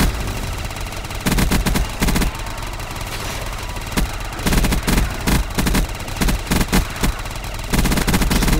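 A gun magazine is emptied in Black Ops 3 custom Zombies, loud close automatic bursts repeating in quick rhythmic clusters over continuous game background noise.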